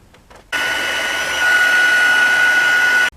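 A heat gun melting gold embossing powder over Versamark ink on a stamped image switches on and blows a steady, loud, whining roar for about two and a half seconds, then cuts off abruptly.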